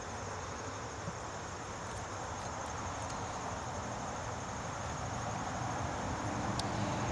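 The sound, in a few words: honey bees buzzing in an open hive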